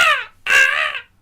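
A person's voice imitates a seagull call: two loud, nasal, harsh cries in quick succession, the first shorter and the second drawn out, alone with no other talk.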